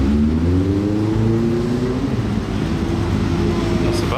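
An Alpine rally car at the 2022 Rallye Monte-Carlo roars past in the town streets, close and loud, its engine note sliding down in pitch as it goes by, with a steady rumble left behind.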